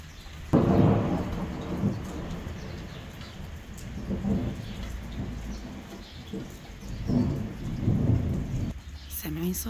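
Thunderstorm with rain on a winter morning: steady rainfall with rolling thunder swelling in several loud low rumbles, near and full, with faint bird calls in the background.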